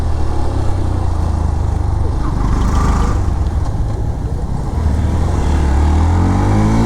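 A vehicle engine drones loud and close while driving, holding a steady rumbling hum that rises slightly near the end, with a person talking over it.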